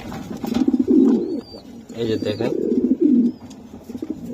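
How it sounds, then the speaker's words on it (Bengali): Pigeons of the New Order breed coo in low, rolling bursts close by, mixed with someone speaking over them. "বন্ধুরা দেখেন আপনারা নিউ অর্ডার কবুতর"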